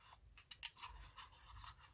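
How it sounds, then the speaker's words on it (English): Small material scissors snip during collage work, a few quiet close crisp cuts with light rustling between them. "I may have to use my material scissors for this because they're very small"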